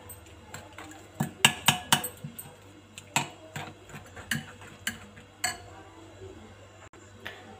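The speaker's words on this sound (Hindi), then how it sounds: "हम अच्छी तरह से दही में फेंट लेते हैं" Spices being whisked into yogurt in a bowl for tandoori chicken karahi: a run of sharp, close clinks and taps from the utensil against the bowl in an uneven rhythm, loudest early on and thinning out over a faint steady hum.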